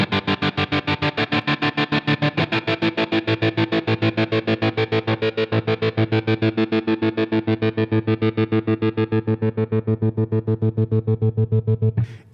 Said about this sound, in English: change this wave shape to a square wave, meaning it's basically going to shut the sound on and off